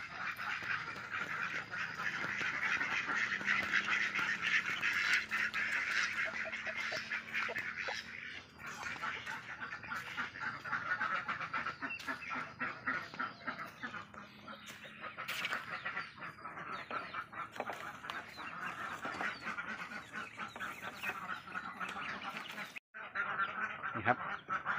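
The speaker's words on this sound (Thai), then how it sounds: "เป็ดอีเลี้ยงครับ" Barbary (Muscovy) ducks on a farm, a dense flock calling continuously with honking, quacking cries, loud and close throughout with no talk.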